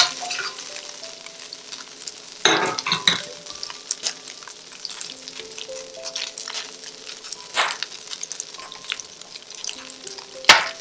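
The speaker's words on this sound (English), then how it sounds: "Gonna add a touch more oil and the steak." Steak pieces frying in oil for a quick beef stir fry, giving a continuous close sizzle with scattered spoon and pan clatter and a few louder scraping bursts, no talking.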